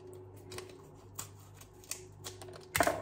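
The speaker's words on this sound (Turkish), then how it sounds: "makasla keseyim." Scissors snip during home cooking in a village kitchen, a few sharp, separate cuts over a low background hum, with the last cut loudest.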